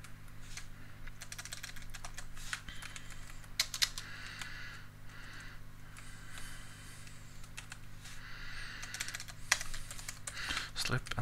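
Steady typing on a computer keyboard, the keys clicking in irregular bursts against a constant low fan hum, while someone talks over it.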